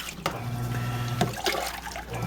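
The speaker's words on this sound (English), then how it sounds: "the regular water has flowed in there now" Water runs steadily into the tub of a Haier HLP23E portable washing machine, a continuous close trickle and splash with a low hum underneath, with no talking.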